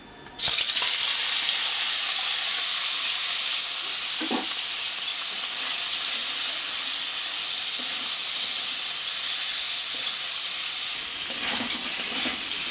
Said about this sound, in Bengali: এখানে দেখো তেল গরম হয়ে গেছে, আর আমি একটু লবণ দিয়ে দিচ্ছি তেলের মধ্যে পনিরগুলো ভাজার জন্য